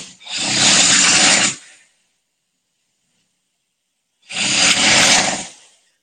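Eric, a man asleep overnight, snores in two long harsh breaths, loud and close, each rasping for about a second with a few seconds of silence between them.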